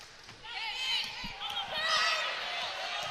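A packed crowd at Maples Pavilion swells into a loud, sustained roar during a 2022 NCAA second-round women's volleyball match between Stanford and LSU as a serve is about to go up, with an announcer speaking over the noise.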